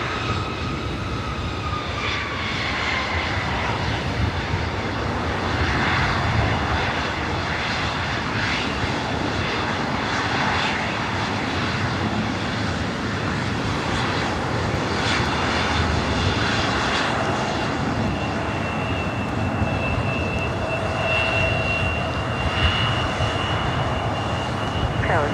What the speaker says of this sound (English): we do have a Queen at DHL Polar Air Cargo, flight 916, coming in from Hong Kong, a 747-8